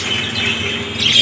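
Budgerigars chirp busily in a bird shop, a dense, loud stream of bright tweets and trills that overlap without pause and swell slightly toward the end.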